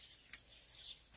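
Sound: birds singing outdoors on a farm

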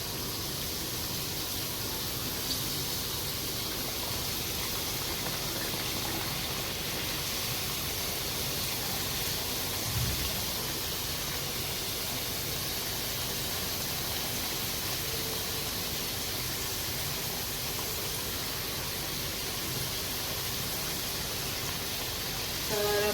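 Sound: potato chip slices frying in hot oil

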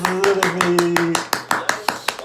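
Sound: people clapping

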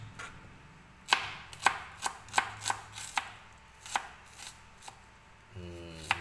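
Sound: chopping onion for pork adobo

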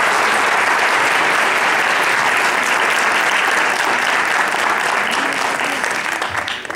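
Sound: audience applause at music school concert

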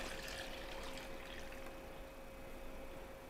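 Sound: water poured out of a burnt cooking vessel

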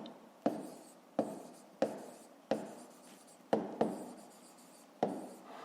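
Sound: writing with pen on paper

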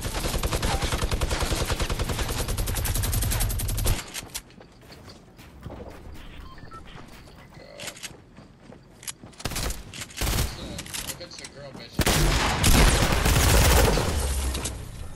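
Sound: gunfire from a video game

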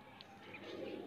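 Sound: pigeon cooing

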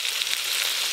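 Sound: meat frying with onion, ginger and garlic

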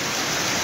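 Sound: heavy rain in Cancún

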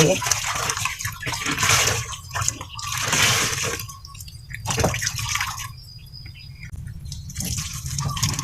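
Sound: rinsing a school shirt by hand in water

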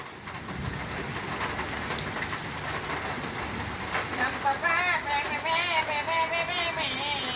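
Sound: heavy rain falling in Dhaka

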